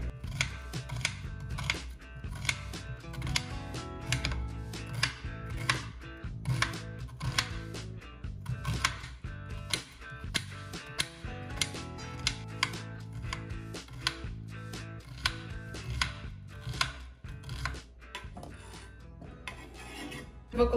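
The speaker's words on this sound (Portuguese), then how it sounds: "E agora eu vou cortar uma cebola para colocar junto com a salsicha" A knife chops an onion on a board for frying with sausage, a dense, steady run of quick close cuts lasting throughout, fairly loud and alone, with a faint low hum beneath.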